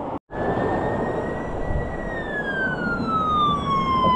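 A police car siren wails steadily with a long sliding tone, loud and continuous over heavy road rumble, with one brief cutout near the start.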